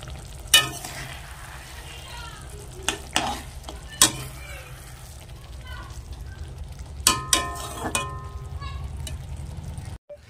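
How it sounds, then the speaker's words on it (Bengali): Bengali fish curry (machher jhal) cooking in a pan, a low steady sizzle with occasional sharp clanks of a utensil against the pan and faint voices in the background. "মাছের ঝালটা বসিয়ে দিয়েছি"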